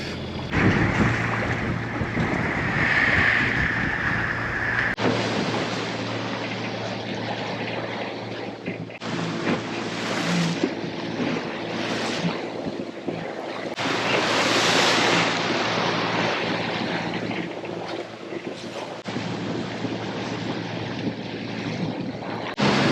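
A strong headwind of about 22 knots roars across the microphone while waves slap and rush against a moving sailboat hull, steady and loud throughout.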